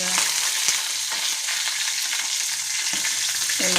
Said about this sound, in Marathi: आपण हलकेसे याला थोडंसं फ्राय करून घेऊया, असं तळून घेऊया.